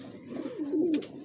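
A racing pigeon returning home during a training flight gives a single low, rolling coo lasting about a second, fairly close and clear, with faint background noise.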